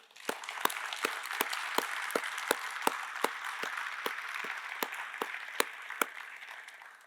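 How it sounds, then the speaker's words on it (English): A small audience applauds two panel speakers, giving steady, even clapping throughout with a few sharper individual claps standing out close by. "I would ask if you'll join me in giving Donovan and Nancy a round of applause."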